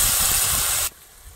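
Water hits crabs frying in a hot pan for a river-fish and crab curry, bursting into a loud, steady hiss that cuts off sharply just before one second, leaving only a faint low background.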